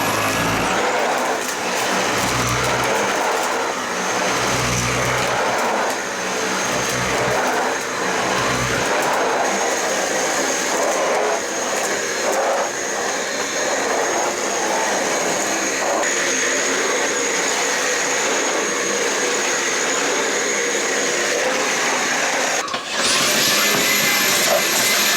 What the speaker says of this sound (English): there's like a lot of dust and dirt, and probably why I'm coughing, so we're gonna vacuum it up